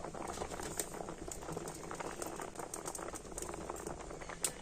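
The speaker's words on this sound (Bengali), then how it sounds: "পিঠেগুলোকে একটু আমি ফুটিয়ে নিয়েছি আর এবার আমি খুন্তি দিয়ে একটু এইভাবে নাড়ি চাড়ি দেব তবে আরও একটু পিঠেগুলোকে আমি ফুটিয়ে নেব" Pitha dumplings simmer in milk in a pot, making a faint, steady bubbling and patter with a few soft knocks, heard close and without talking.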